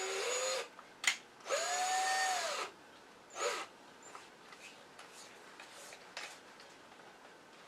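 A hand drill with a bit just over 3/16 inch bores into a wooden bowl blank in a few short whining bursts, the longest about a second, followed by quieter scraping and handling.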